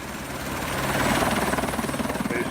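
Helicopter in flight, a loud steady rotor thump with a rhythmic chop that grows stronger and pulses near the middle, heard alone without speech.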